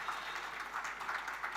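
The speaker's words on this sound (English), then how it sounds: "Can we have a big, big round of applause," Steady applause from a festival audience in a literary event hall, a dense, even patter of many hands held at a moderate, somewhat distant level for the whole stretch.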